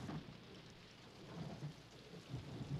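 Heavy rain pours down in a steady wash, with low thunder rumbling through it, loud and continuous from start to end.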